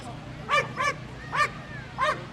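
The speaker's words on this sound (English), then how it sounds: "So the dog's going to bark at him." A police K-9 dog at a police demonstration gives four sharp, close barks, spaced about half a second apart, over a low steady background hum.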